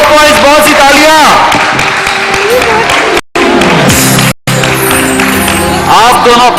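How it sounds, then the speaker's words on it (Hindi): Studio audience clapping for the winner of a Ramadan quiz show segment on a TV set, applause running under a loud voice and music-like tones, with two brief dropouts midway. "बहुत सी तालियां।"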